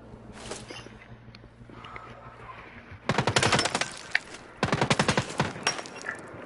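Bursts of rapid machine-gun fire in a squad shooter game, two long loud volleys close by after a quieter stretch with a few distant shots, aimed at the player.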